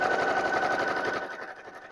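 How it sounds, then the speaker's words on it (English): A sewing machine stitches a stand mixer cover at a 2.5 stitch length, a rapid, even mechanical whir up close that slows and fades toward the end. "Just run a few stitches around it."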